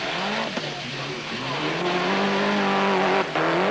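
A 1998 Mitsubishi Lancer Evolution 5 rally car drives at Rally Finland, its engine rising and shifting through gears in a loud, sustained drone. A commentator talks over the car.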